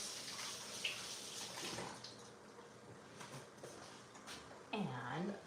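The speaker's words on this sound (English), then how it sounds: "Give our hand a quick rinse." Hands rinsed briefly under a running kitchen tap while preparing chicken, a soft splashing stream of water, faint and close, with a voice heard near the end.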